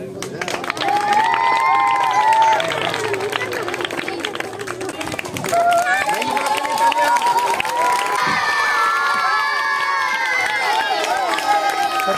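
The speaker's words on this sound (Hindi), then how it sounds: "तालियां" Guests at a teacher's retirement party at a railway school in Mirpurkhas applaud and cheer, with loud clapping mixed with shouting voices and lively crowd chatter that swells and continues throughout.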